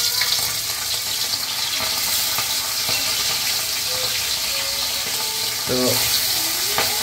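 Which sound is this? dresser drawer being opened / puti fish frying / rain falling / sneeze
puti fish frying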